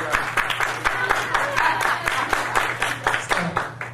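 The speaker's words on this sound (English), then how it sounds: "You can't clap yet, I'm not done." Audience clapping at a church youth gathering, a group giving loud, irregular claps close by, with a voice talking over it.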